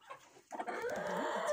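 Hens clucking in a small pen, a few soft clucks swelling into a steadier, louder run of close clucking and calls with no voices over it.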